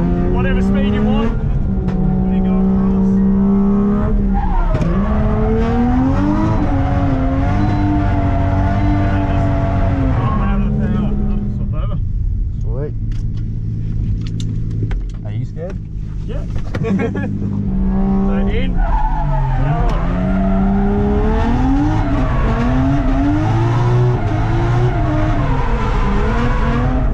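A car climbs a hill during drifting practice with a pro driver, the engine revving and rising in pitch through repeated pulls, with tires squealing and skidding loudly throughout.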